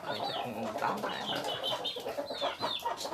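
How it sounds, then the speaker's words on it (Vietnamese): Farm-raised chickens cluck and call close by, several overlapping birds with repeated rising squawks and short clucks over a murmur of farmyard background. "Đây có nuôi gà nồi nhiều lắm các bạn."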